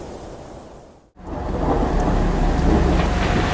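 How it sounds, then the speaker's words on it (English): A thunderstorm with heavy rain; a steady roar of downpour drops out briefly, then returns louder and fuller, continuous and close with no voices. "a storm came,"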